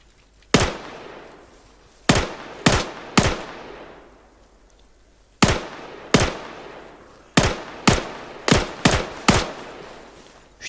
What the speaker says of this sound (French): Je tire là où je peux tirer